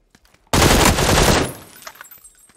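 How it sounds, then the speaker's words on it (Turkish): Shotgun firing in the video game PUBG on the Sanhok map: one loud, roaring blast lasting about a second, fading into a rumbling tail with faint clicks, no talking. "Oo, shotgun sesi."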